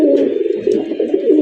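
Raj Golla pigeons coo steadily and loudly up close, a continuous low warbling murmur with no pause across the stretch.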